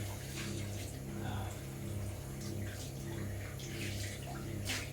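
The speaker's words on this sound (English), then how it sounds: "And finished a little bit of washing up as well." Water runs steadily from a tap while dishes are washed up in a home kitchen, a soft continuous hiss with a low hum underneath and faint clinks, quiet and close.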